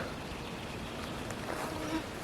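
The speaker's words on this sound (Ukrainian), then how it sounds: "тут так комарів багато капець просто" Mosquitoes whine in a summer forest, a faint, continuous thin buzz over quiet background noise, with no talk.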